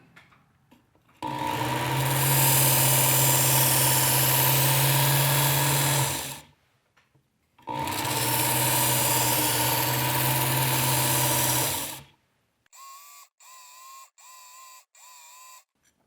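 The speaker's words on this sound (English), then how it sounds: "This is going to get our blade shaped correctly so that the other blades can refine it and get it really, really sharp." A Work Sharp belt knife sharpener grinds a blade in two long, loud, steady whirring passes of about five seconds each, followed by a few short bursts of motor and belt buzz.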